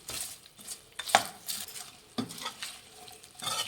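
A spoon stirring and mixing curry leaves chicken dry in a pan, a run of distinct scrapes and clinks of metal on the pan with soft sizzling between them, close and fairly quiet, no talking.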